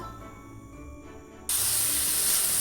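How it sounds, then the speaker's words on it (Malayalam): Garlic, beans and carrot hitting hot oil in a pan, a quiet background hum that suddenly bursts into a loud, steady sizzle and hiss that continues to the end. "ഒരു പാനിൽ ഓയിൽ ഒഴിച്ചിട്ടുണ്ട് അതിലേക്ക് വെളുത്തുള്ളി ബീൻസ് ക്യാരറ്റ് വേട്ട് നന്നായിട്ട് വഴറ്റിയെടുക്കാം"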